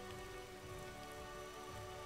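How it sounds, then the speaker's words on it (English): Freezing rain in the strategy game Age of the Ring, a constant dense patter of rain with a faint tonal hum beneath, steady and even throughout with no talking. "And we have Freezing Rain all the time."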